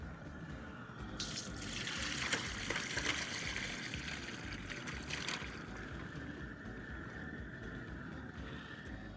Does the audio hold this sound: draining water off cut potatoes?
yes